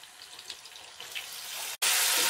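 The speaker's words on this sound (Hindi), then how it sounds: "देखिए पक रहा है अभी निंगरो" Fiddlehead fern cooking in a wok in a Darjeeling village kitchen gives a steady, close sizzling hiss that breaks off briefly, then returns louder and brighter, with no voices.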